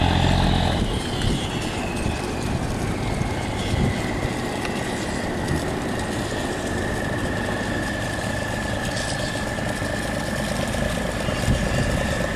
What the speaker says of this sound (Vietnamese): Cái động cơ xà lan không biết sao mà mình đã thích nghe ghê.